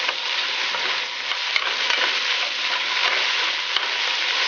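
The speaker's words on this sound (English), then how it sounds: "stir it with the rest of the ingredients that's already in the pot." Garlic and other ingredients sizzling and frying in a pot while being stirred, a steady close hiss throughout with soft scraping, no talking.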